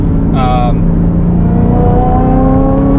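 Supercharged LS3 Chevrolet Camaro SS accelerating on a test drive: loud, constant engine roar with a short whine early on, then harmonic tones that climb steadily as revs build.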